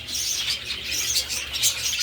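Pet parakeets chirp continuously at close range in a hot setting, with dense overlapping high tweets and no voices.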